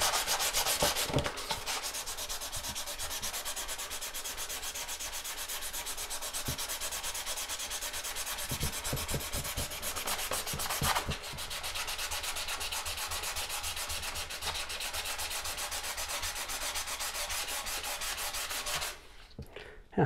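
Sandpaper scrubs sticker glue and remainder marks off a book, a close, fast rasping rub in continuous back-and-forth strokes that runs for most of the stretch before stopping near the end, with no talk.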